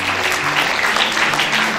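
Students applaud at the opening session of a literary festival, a loud, dense round of clapping from a large group that fills the space evenly, with no voices over it.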